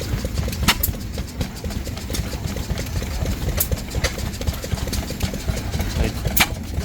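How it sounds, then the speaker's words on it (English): An Australian-made Clutterbuck oil engine runs at a fall fair engine display, making a steady mechanical chugging with sharp, irregular clicks and knocks throughout, close by and fairly loud. "This is a Clutterbuck oil engine."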